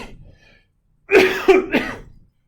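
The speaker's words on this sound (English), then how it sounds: "Those are coughs, no blessing needed." A few sharp coughs in a row, close and fairly loud, with a brief pause between bursts in an otherwise quiet room during a math class session.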